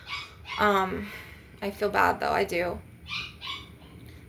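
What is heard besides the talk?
Chihuahua dog barking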